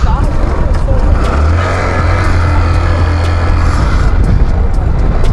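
A small motorcycle engine idles and revs steadily after starting, loud and close, with a constant low drone and people talking nearby.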